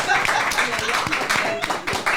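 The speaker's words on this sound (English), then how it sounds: "He wants an applause." An audience breaks into applause, a dense wash of clapping that carries on for a couple of seconds with voices mixed in.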